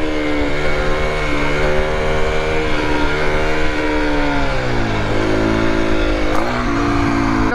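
An Aprilia SX 125 motorcycle engine revs steadily during a wheelie, its loud, continuous note rising and falling in pitch as the rider holds and adjusts throttle, with no talking.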